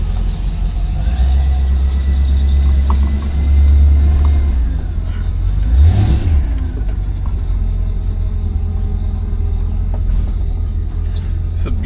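Engine of a 1963 Pontiac Bonneville underway, with a steady low rumble that rises briefly in a rev partway through and then settles back.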